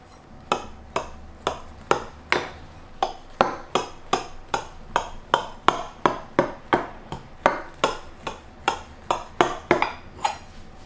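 A knife cuts through a baked cottage pie with a golden potato top over a meat layer, striking the dish with a steady run of two dozen sharp, close clinks and taps, evenly spaced and alone with no talking.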